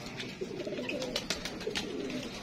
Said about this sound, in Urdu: بڑی خوبصورت کبوتر ہے